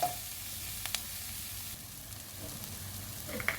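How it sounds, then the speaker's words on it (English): Chopped vegetables sauté in a pan for beetroot pulao, giving a soft, steady sizzle at low volume with a few brief clicks from stirring. "Now let's saute this also."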